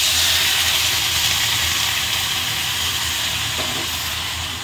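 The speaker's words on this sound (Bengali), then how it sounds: "এখন গরম জলটা আমি ঢেলে দেবো।" Hot water poured into a pan of spiced potatoes gives a loud, steady hiss and sizzle that holds for several seconds and fades slightly at the end, with no talking.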